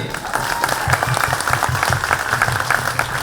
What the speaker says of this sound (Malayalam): എല്ലാവരും നല്ലൊരു കൈയടി കൊടുത്തേ